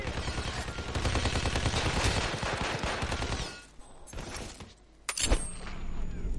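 Gunfire in the video game Hitman Absolution, a rapid burst of shots that rattles for several seconds, then a pause and a sharp single blast, with someone talking over part of it.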